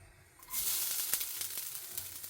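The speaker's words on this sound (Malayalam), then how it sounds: "നമുക്ക് ഈ തേങ്ങ ചേർത്തിട്ടൊന്ന് വറുത്തെടുക്കാം." Grated coconut goes into a hot pan for a koottu curry, and a bright steady sizzle starts abruptly and stays close and fairly loud, with a few scraping stir clicks.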